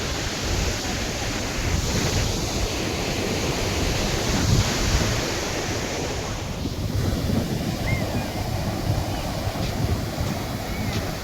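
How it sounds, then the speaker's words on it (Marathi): Large ocean waves roll in at Sagareshwar beach in Vengurla as a loud, unbroken surf roar, with wind buffeting the microphone throughout. "कसल्या मोठ्या लाटा येत आहेत त्या बघा"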